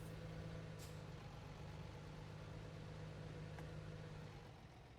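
A truck engine in American Truck Simulator heard from outside the cab, a faint, low, steady drone with a soft hiss, fading slightly at the end.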